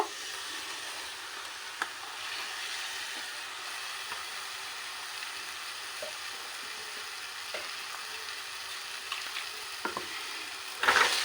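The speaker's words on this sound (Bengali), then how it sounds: "এবার এটাকে ভালো করে নেড়ে নিতে হবে মিশিয়ে নিতে হবে ভালো করে মিক্স করে" A mixture of green jackfruit and ground lentil paste sizzles steadily in a frying pan while a spatula stirs it, with occasional scraping taps over the continuous frying hiss and no talking.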